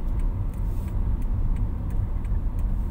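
A car drives along Rama IV Road in Bangkok, Thailand, near Chamchuri Square, giving a steady, loud engine and road rumble with light ticking throughout and no talking.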